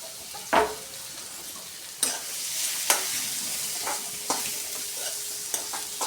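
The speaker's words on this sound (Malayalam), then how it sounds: "ഒരു ചീനച്ചട്ടി അടുപ്പത്ത് വെച്ച് കുറച്ച് ഓയിൽ ഇട്ട് കൊടുത്തതിന് ശേഷം സവാള പൊരിച്ചിടാം" Sliced onions deep fry in oil in a Kerala cheenachatti wok for a ghee rice garnish, making a continuous hiss broken by several sharp scrapes and knocks of a stirring spoon.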